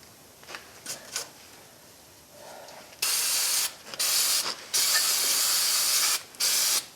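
Cleaner sprayed onto the crusty, rusty rear brakes of a 2005 Chevrolet Suburban 1500 4x4, loud hissing bursts in several long pulses with brief gaps, close up, preceded by a few faint clicks and no talk.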